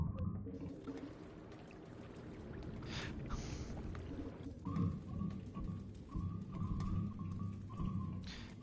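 Steady rain pours down in the video game Rain World, a dense hiss with low rumbling underneath and faint tonal hums partway through.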